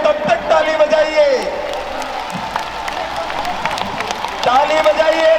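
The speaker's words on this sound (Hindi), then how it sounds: "ताली बजाइए, ताली बजाइए।" A large crowd claps and cheers at a religious gathering in Udaipur, a steady dense wash of applause running the whole time, with an amplified voice and a sustained tone rising over it at the start and again near the end.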